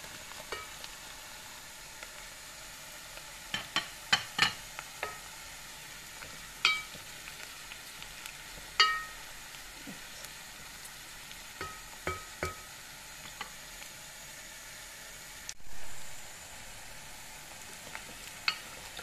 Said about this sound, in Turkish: Köftelerimizi ekleyelim. Birlikte kavurmaya bırakalım.